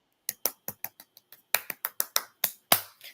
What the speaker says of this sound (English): Snaps, and claps.